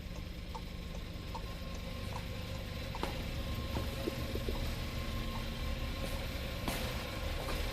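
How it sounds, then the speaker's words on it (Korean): A 2020 Volkswagen Jetta's hazard-light blinker ticks in a steady, quiet rhythm inside the car, set against a low, constant hum. "비상 깜빡이 소리 지금 들리시죠?"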